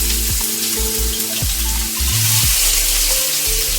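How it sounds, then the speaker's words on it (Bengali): Chicken pieces dropped into a hot frying pan with a loud, steady sizzle, punctuated by a few sharp splashing bursts as more pieces go in, with no talking. "আমি মাংসগুলো, চিকেনগুলো ছেড়ে দিচ্ছি।"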